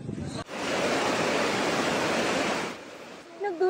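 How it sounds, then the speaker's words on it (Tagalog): Strong typhoon wind roaring on Camotes Island under signal number 4, a loud steady rushing blast of wind noise lasting a couple of seconds before easing, with brief faint sounds after. "Ganito naman kalakas ang hangin sa Camotes Island na nasa signal number 4."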